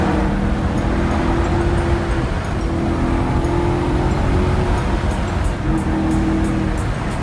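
Steady loud road rumble and engine hum from inside or beside a moving Maserati GranTurismo, with a sustained low engine tone that drops out briefly and returns as it drives on.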